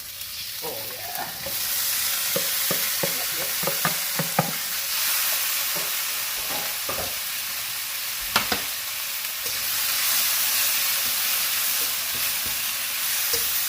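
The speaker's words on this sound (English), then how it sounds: "Let's get a pork belly. We'll start frying this off." Sliced pork belly frying in a wok over high heat, a constant hissing sizzle with bursts of clattering stir strokes and spatula knocks, close by.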